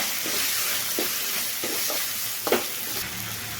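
Finely chopped onion frying for Kathiyawadi dhokli shaak, a constant hissing sizzle with repeated stirring scrapes, one louder clatter near the end.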